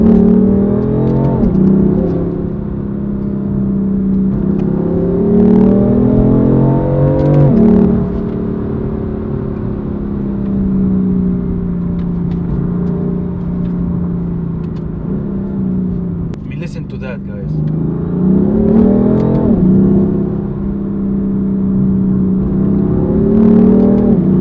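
BMW M4 Competition engine revs up and down repeatedly, a loud throaty growl that rises and falls in several surges over a steady idle rumble.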